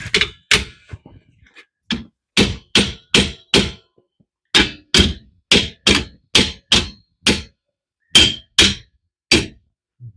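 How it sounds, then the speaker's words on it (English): A hammer hits the leaf spring on a Jeep rear axle during a Ford 8.8 axle swap, outdoors in the snow. Around seventeen loud, sharp metallic blows come in uneven bursts with brief pauses between them. "I'll grab a hammer and see if I can move things here"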